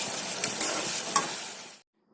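A spoon stirs dal frying in a pan with freshly chopped coriander leaves, giving a steady close sizzle with scraping strokes for nearly two seconds before it cuts to silence.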